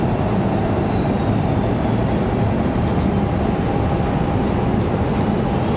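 Mesa Airlines United Express Embraer E175 regional jet arriving at Raleigh-Durham from Houston, a steady, fairly loud engine rumble and whine holding constant, heard alone.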